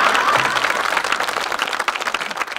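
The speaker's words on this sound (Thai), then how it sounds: "ปรบมือต้อนรับกันที่มวยฝ่ายแดงครับ" An audience at a Thai comedy show breaks into steady, dense clapping to welcome a boxer in the red corner, a full crowd applause that carries on evenly throughout.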